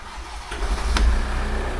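A 2.2-litre front-engine Ford Transit van with 214,000 miles on its original engine idles and revs up close by, a steady low rumble that swells briefly in the middle.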